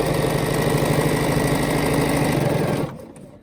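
A sewing machine runs steadily while quilting with a ruler along a drawn line, a constant mechanical hum and rattle for almost three seconds before it stops abruptly.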